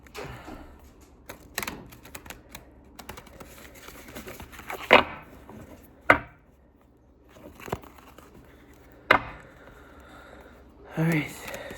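A deck of tarot cards is shuffled by hand, giving irregular rustling, riffling bursts and crisp taps with quiet pauses between, close and fairly soft.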